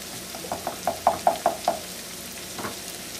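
Smoked sausages and onions sauté in a pan, with a run of sharp clacks, like a utensil knocking against the pan, over a low sizzle. A few more faint taps follow after a pause.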